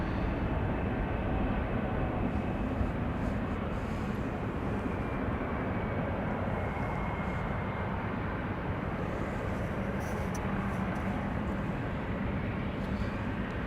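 A Cathay Pacific Cargo Boeing 747 lands on runway 06 at Amsterdam Schiphol, a broad, steady jet roar heard from a distance, loud and unbroken for the whole stretch with no talk over it.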